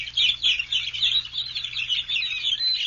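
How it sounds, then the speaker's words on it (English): Birds calling at the Indiana dunes, a dense chorus of high chirps and tweets with no voices, playing steadily and fairly loud against a low background hum. "Those birds."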